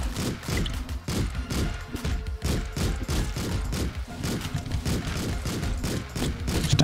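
Rapid bursts of gunfire from the top-down action game Streets of Rogue, dense repeated shots and thuds in an irregular but steady rhythm, loud and up close with chaotic game effects throughout.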